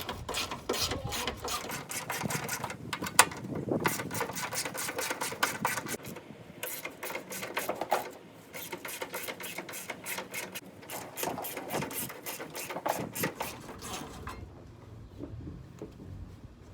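A ratchet wrench clicks rapidly in long bursts while removing 10mm radiator bracket bolts on a 2003 Nissan Sentra, close and steady with brief pauses between runs.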